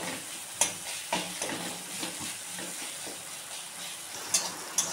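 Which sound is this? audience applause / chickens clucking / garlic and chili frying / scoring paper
garlic and chili frying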